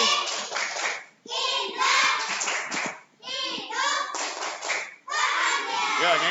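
Children clap their hands in rhythm while chanting together in a classroom, bursts of clapping and young voices alternating with short pauses.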